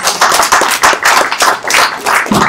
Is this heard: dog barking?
no